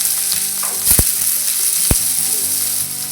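Plenty of onions fry with mustard seeds in a pan, a loud steady sizzle close up, broken by two sharp knocks of a spoon against the pan and faint stirring.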